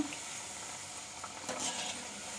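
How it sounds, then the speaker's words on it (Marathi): Shankarpali dough pieces frying in oil over low heat while being stirred, a gentle continuous sizzle with light scraping, fairly quiet and steady without speech. "हे असे एकसारख्या हलवून घ्यायच्या म्हणजे खालनं करपत नाहीत शंकरपाळ्या."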